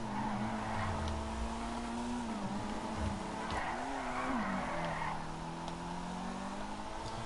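The Vapid Flash GT rally car in Grand Theft Auto 5 skids with its rear end sliding out, a sustained tire squeal over a steady engine drone that rises and falls.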